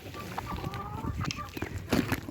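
Backyard hens cluck in a steady, close chorus as warm water is brought out for their morning drink, with brief rustling and a few louder calls near the end.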